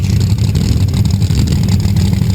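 A dirt track race car with a 611 cubic inch race engine and a nitrous system roars loudly and steadily in a low, continuous drone, with no pauses.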